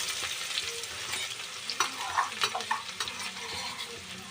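Chopped onions frying in oil with cumin for egg bhurji, a steady close sizzle with soft stirring scrapes and small crackles throughout, no talk.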